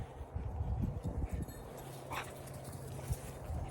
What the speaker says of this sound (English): There's just another dog that came by, so of course she started barking and doing her thing.